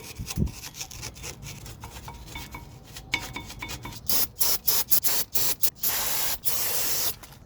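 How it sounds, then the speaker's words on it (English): Broadband hissing spray of brake cleaner in several short bursts, then a longer blast, preceded by steel-brush scraping and rubbing close by, cleaning front brake parts on a Hyundai Tucson. "and some brake spray. We're going to clean these up."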